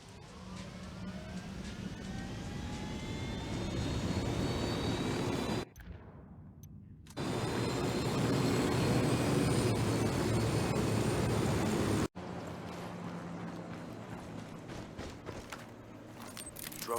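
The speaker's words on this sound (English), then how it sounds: "Drone is airborne." Drone lifting off in Ghost Recon Wildlands, a steady whirring motor drone with rising whine that runs continuously, broken by brief abrupt cuts, with no talk over it.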